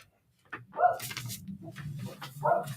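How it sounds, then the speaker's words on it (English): A dog barks indoors in a few separate bursts, moderately close, with steady low room noise between the barks. "Sorry about the dog barking."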